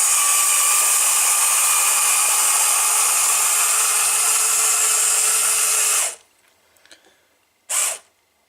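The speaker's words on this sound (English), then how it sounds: "We're going to see if there's enough power in this motor, because I think the batteries may be going dull slightly" Small battery-powered motor lifting a LEGO elevator, a steady loud whine running for about six seconds before cutting off, followed by a few faint clicks and a short final burst.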